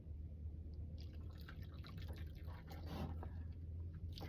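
Water is poured into a pan in a small 7-quart sink inside a van, a faint, continuous trickle and drip under a low steady hum, with no talk.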